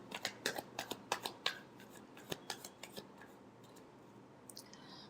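Tarot cards being shuffled, a quick run of crisp riffling snaps and flutters in close succession, fairly near and faint with no talking.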